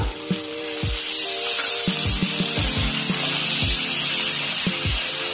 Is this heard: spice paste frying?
yes